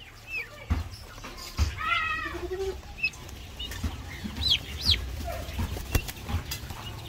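Chickens and young chicks chirp and cluck while being fed, scattered high peeps and short calls with some wing flapping, moderately close over a low background hum.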